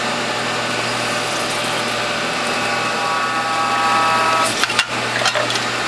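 Whole Health Foundation juicer pressing grapefruit juice: a steady mechanical hum and whir that grows slightly louder, then ends in a few sharp clicks and ratcheting knocks as the press is pushed all the way down.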